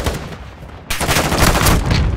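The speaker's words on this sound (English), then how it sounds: "I'm taking fire!" Sustained burst of automatic gunfire in Call of Duty: Modern Warfare II, loud and close, breaking in sharply after a moment of quieter battlefield noise and continuing densely to the end.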